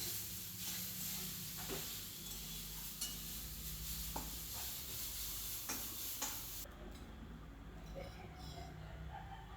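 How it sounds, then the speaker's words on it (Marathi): Carrots being stirred and roasted in a pan for carrot semolina halwa, heard as a steady soft sizzle with irregular light scrapes and taps from the spoon. The sound is fairly faint and continuous, and it quiets slightly toward the end. "हे गाजर सतत छान हलवत राहायचंय"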